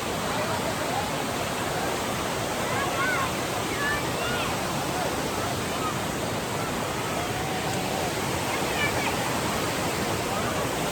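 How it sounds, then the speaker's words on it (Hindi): The Baruasagar waterfall, where people bathe below it, gives a loud, steady, broadband roar of falling water that fills the whole scene without a break. "बरुआ सागर झरने"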